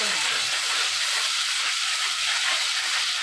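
Tomato puree hits a hot pan while chickpea curry (chole) is being cooked, giving a loud, dense, continuous sizzle and hiss that stays steady throughout.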